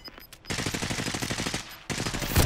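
Rapid automatic gunfire in a battle royale video game, a dense burst of fast repeating shots lasting over a second, loud and close, followed by another burst starting at the end.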